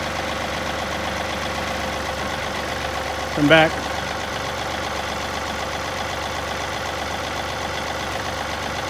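John Deere tractor engine idling steadily nearby during downed tree cleanup, a constant mid-low drone with a brief shout rising over it.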